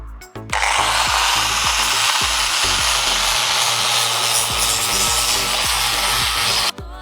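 A power sander grinds steadily against wood while building a gazebo, a loud continuous whir with rhythmic scraping pulses, starting and stopping abruptly.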